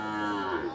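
A pregnant local cow at a cattle market lets out a single short, close, loud moo.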